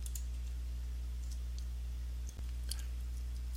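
Mouse clicks on a computer in a quiet room come as a few faint, sharp ticks scattered over a low steady hum.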